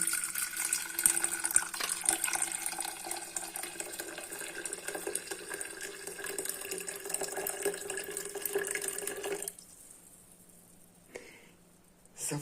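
Brewed cardamom tea infusion poured into a cup, a continuous trickling, splashing stream of liquid running for about ten seconds before stopping, followed by quiet with a brief faint sound near the end.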